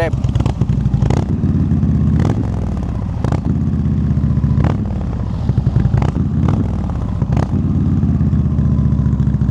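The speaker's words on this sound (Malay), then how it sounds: "Korang dengar bunyi dia. Rem." An X-Wedge motorcycle engine runs close by with a loud, deep, throbbing rumble, broken by several brief sharp clattering bursts as the throttle is worked.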